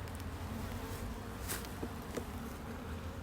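Honeybees swarm and buzz around an open beehive as drones pour out, a dense, steady hum that carries throughout, with a few brief sharper sounds near the hive.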